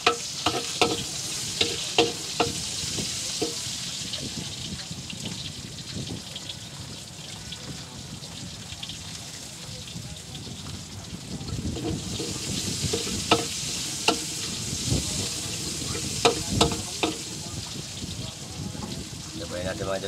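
Garlic and onion sautéing in a pan for boiled pork, a steady sizzle with bursts of stirring scrapes, close and moderately loud, with a voice speaking over parts of it.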